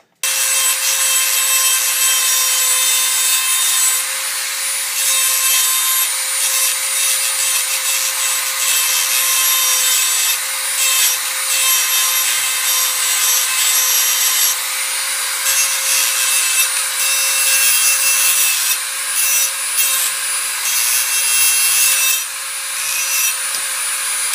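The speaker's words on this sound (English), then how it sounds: "I'm just using a simple little Dremel tool with a stone bit." A high-pitched Dremel rotary tool with a stone bit whines steadily for a long stretch, grinding against a surface with small, uneven fluctuations in loudness.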